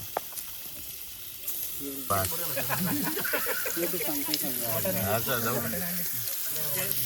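Chicken pieces fry in a pan with oil, a steady sizzle that grows louder partway through, while people talk over it nearby.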